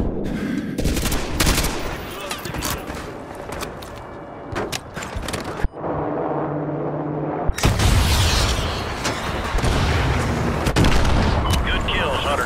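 Dense gunfire, machine-gun bursts and booming explosions from a Call of Duty Modern Warfare 2 battle, loud and continuous with a brief lull mid-clip before heavy firing resumes.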